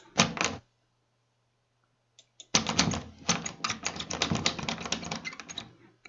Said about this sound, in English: Let's hear this door handle.